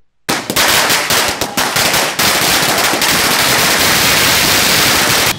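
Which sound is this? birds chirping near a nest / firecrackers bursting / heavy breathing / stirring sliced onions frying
firecrackers bursting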